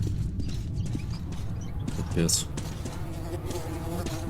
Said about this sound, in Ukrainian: Мухи, жуки на моніторі.